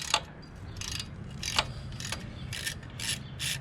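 An Allen wrench loosening a bolt on a motorcycle during a Toce baffle install, heard as a series of close metallic clicks and ratcheting bursts in a quick irregular rhythm.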